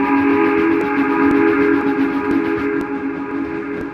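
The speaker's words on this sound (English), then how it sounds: "Then he heard a whistle that was not familiar to him" A steady, sustained train whistle with harmonic tones holds loud and unbroken for several seconds, with faint rail rumble beneath and a few sharp clicks.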